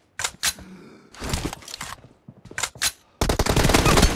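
Rapid bursts of close, loud gunfire in a team deathmatch video game, several sharp automatic volleys separated by brief pauses, ending in a sustained stream of shots.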